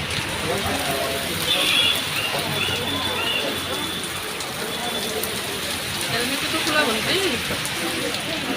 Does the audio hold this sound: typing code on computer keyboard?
no